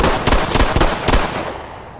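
Gunfire in the tactical shooter Ready or Not comes as a loud, close burst of about four rapid, punchy shots, then a short fading tail.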